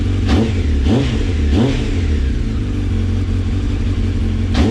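A motorcycle engine, a Honda Blade in a garage, revs hard several times in quick succession, then settles into a loud steady idle, close up with no talking.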